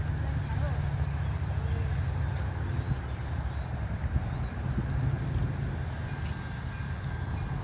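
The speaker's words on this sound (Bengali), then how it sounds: "একটি ট্রেন প্ল্যাটফর্মে ঢুকছে।" A local train pulls into a station platform in America, a steady low rumble of wheels and carriage noise holding close and loud throughout, with faint squeals above.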